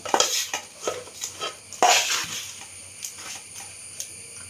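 A sifted mixture is stirred in a bowl for chakka ada, and a spoon clinks and scrapes against the bowl in quick irregular strokes, louder at first and then lighter.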